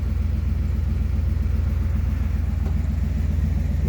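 A 1992 Dodge W250 pickup with a 360 LA V8 idles steadily just after a cold start, a loud, even low rumble with a constant throb and no talking over it.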